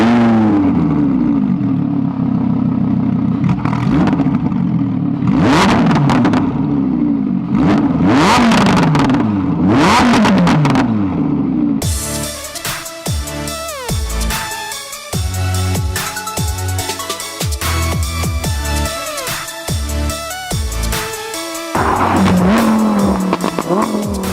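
A Lamborghini Huracan with a modified exhaust fires up and revs hard, loud and close: repeated sharp throttle blips rising and falling, then continuous aggressive acceleration with crackling overrun, no talking.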